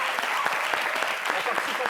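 A television studio audience claps in a brief, dense burst of steady applause.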